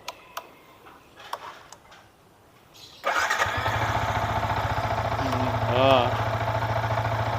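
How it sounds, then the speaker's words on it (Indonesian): A used Yamaha 155 cc motorcycle with 23,000 km fires up after a few faint clicks, then settles into a loud, steady close-up idle with a constant low throb that continues to the end. "nyala mesin"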